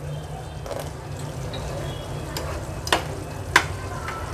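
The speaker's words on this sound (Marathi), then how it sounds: "मीठ ॲड केल्यानंतर कालवण व्यवस्थित आपल्याला मिक्स करून घ्यायचं आहे" A spoon stirs Agri Koli style lobster curry seasoned with salt in a pan over a high flame, scraping softly against a steady low simmering sizzle, with two sharper clinks near the end.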